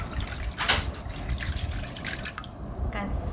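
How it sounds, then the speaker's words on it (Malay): Water splashes and trickles as it is poured into a cooking pot for a pineapple and salted fish curry, a close, continuous running-liquid sound. "Masukkan air dulu ke dalam periuk."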